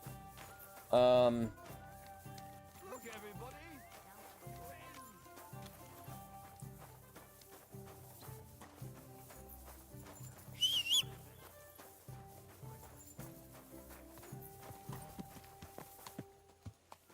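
Horse hooves clip-clop on the ground in the medieval open-world game Kingdom Come: Deliverance II, a steady walking rhythm of hoofbeats under game music and ambient sounds, with a brief louder burst near the start.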